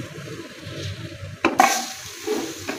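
A metal spoon stirs meat in a pan to cook off the water, a soft bubbling simmer broken by a sharp scrape and clatter midway, then gentle sizzling and stirring, close and without talk.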